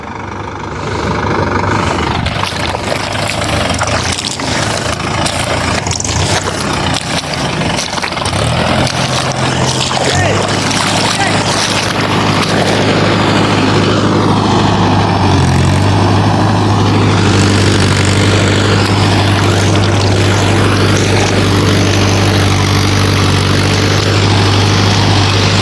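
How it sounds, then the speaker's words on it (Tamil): Tractor with a farm machine arriving at a paddy field: loud, continuous engine drone that grows steadier and deeper partway through as the engine settles into a heavy low idle, close by and unbroken. "டிராக்டர் வந்துட்டு ஜுவோ மிஷின் ஒன்று வந்துருக்கு"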